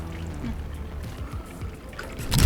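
Old coolant drains from a motorcycle radiator in a steady, close pouring trickle with low gurgles, running continuously for a couple of seconds before a louder burst at the end.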